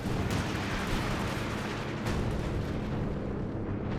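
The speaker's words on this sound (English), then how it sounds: "Anti-tank instead being wiped out by artillery fire" Artillery fire in Company of Heroes 2 pounds an anti-tank position as a dense, continuous barrage of booming blasts, with sharper impacts breaking through the steady roar.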